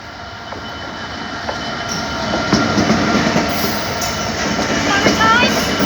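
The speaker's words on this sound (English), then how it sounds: "I see the train. Oh, it's DB cargo." A DB Cargo freight train rumbles steadily past a road level crossing, a continuous close rolling roar with wheel clatter and faint squeals, while children chatter excitedly nearby.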